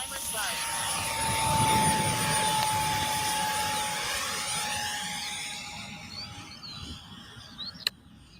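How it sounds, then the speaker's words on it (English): A 3D-printed RC model of a Saab, launched by bungee, flies with a steady high-pitched electric motor whine that fades as it moves away. Voices talk throughout, and a sharp click comes near the end. "That's a 3D printed plane."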